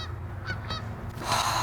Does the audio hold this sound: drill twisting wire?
no